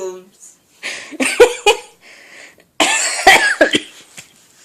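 A person coughs in two bursts, each a short run of harsh, close, loud coughs separated by a pause, with some breathy noise trailing after.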